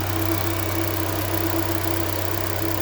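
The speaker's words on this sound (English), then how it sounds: "I figured I'd give you a sneak peek of what the ITBs sound like right now." Mazda Miata four-cylinder engine fitted with individual throttle bodies, running on a single map, idling with a steady, loud, rough drone and deep throbbing pulses close by, with no talk.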